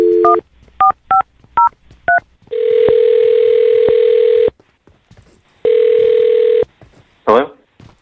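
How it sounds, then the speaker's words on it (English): A string of short touch-tone beeps is followed by two long ringback tones, then a brief burst of a voice at the end. "I'm going to dial his phone number right now"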